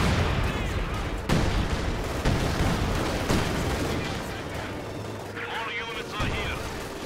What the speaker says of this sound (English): now he's bringing up this field gun to start bombing them from long range